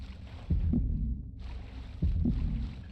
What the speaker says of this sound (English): Please stop the dramatic heartbeat effects.